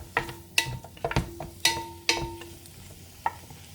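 Chicken pieces for arroz caldo are stirred in a pan, with sharp scraping strokes of the utensil against the pot every half second or so over a faint sizzle, close and without talking.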